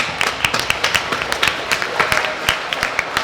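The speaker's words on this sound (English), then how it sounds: "Another round of applause." Audience applause at an Asian Hustle Network livestream event in Los Angeles, a steady patter of many hands clapping together at moderate loudness, continuing evenly without talk over it.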